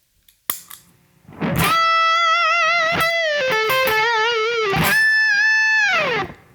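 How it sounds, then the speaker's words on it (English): Heavily overdriven electric guitar, played through two stacked overdrive pedals on a budget pedalboard, plays sustained, saturated notes and bends with a thick, compressed lead tone, loud and continuous after a brief pick attack. "Okay, let's try stacking the overdrives."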